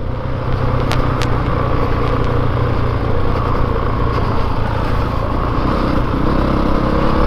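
A 2022 Honda CRF450RX dirt bike runs steadily under the rider, a loud, close, constant engine drone with no voices.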